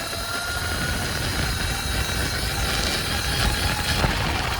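An electric micro stunt bike running about 6 kilowatts is pushed to full throttle, giving a loud, steady whining roar that holds for several seconds, close up, with no talk.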